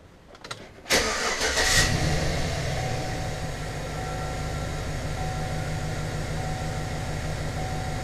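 A 2007 Chevrolet Silverado with a makeshift fuel injector setup cranks over after a brief click, then settles into a steady, close engine drone that carries on alone.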